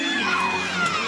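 Loud arena crowd at an LSU at Missouri gymnastics meet, a continuous roar of cheering and shouting voices with whoops rising above the din.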